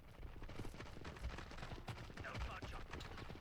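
Dense, rapid blaster fire from a Star Wars: Galaxy at War mod battle on Geonosis, with overlapping shots crackling continuously at fairly low level and a busy, chaotic battlefield din throughout.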